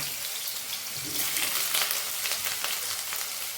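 Onion fries with cumin in a pan over a lowered gas flame, a close, steady hissing sizzle that swells briefly louder as the onion goes in, with no talking.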